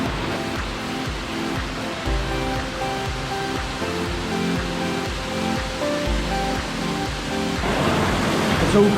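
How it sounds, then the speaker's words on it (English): Lots of water rushing through a dark tunnel near a waterfall at Omanawa Falls, New Zealand, a steady loud broadband roar that swells slightly toward the end, with no talk. "Sounds like there's a lot of water in there too."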